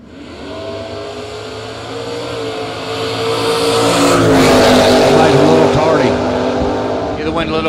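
A 1969 Camaro launches in a footbrake drag race beside another car, engines roaring loud and rising over about eight seconds with a crowd and announcer voice underneath.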